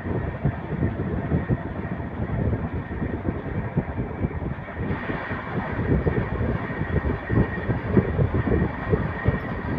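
The Dhauli Express rumbles along the rails at speed, a continuous loud roar of wheels and carriages with rapid clattering pulses from the track, heard close from on board.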